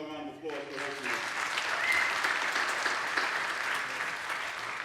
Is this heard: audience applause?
yes